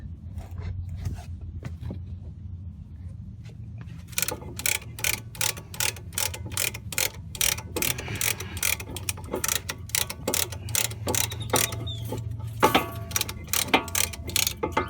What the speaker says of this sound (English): continue these, compressing the piston